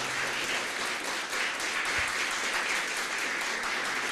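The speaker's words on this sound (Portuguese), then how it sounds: "Quantos podem aplaudir o Senhor por isso nessa manhã" A church congregation applauds during a Sunday morning service, a steady wash of clapping from many hands held at an even level throughout, moderately distant.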